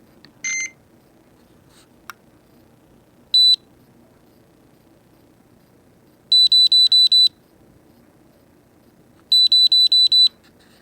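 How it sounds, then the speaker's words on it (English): A Skyzone Sky02 V2 3D FPV goggle's low-voltage warning sounds in short, shrill electronic beeps. There is a single beep, then a quick group of five, then another group of five. The beeps are close and clear over a quiet background. "we should hear some beeping"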